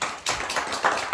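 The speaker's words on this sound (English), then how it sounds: "Let's give her a round of applause." A small tour group gives a volunteer a brief round of applause, a short spatter of a few hands clapping close by.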